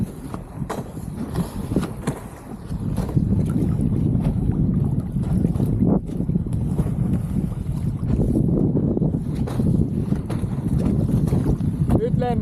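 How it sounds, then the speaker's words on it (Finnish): Wind buffets the microphone during wingfoiling on open water, a loud, rough roar that builds after a few seconds and stays steady, with water splashing and a few knocks underneath. "Pientä puuskaa tulee."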